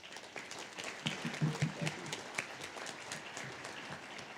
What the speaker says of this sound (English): that was really lame applause